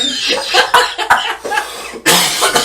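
A single person coughs several times in quick, rough bursts at close range, with a harsher cough near the end and no speech.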